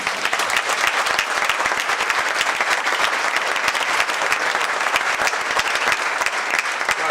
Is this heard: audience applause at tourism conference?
yes